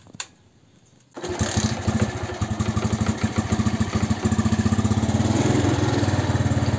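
A motorcycle engine fires up after its voltage regulator is replaced and settles into a close, steady rapid-pulsing idle with a faint hum before the start, loud and unbroken to the end.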